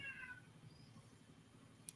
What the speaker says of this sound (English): Your cat is crying